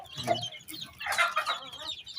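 Chickens being fed rice cluck close by in a short burst of overlapping calls, with no talking.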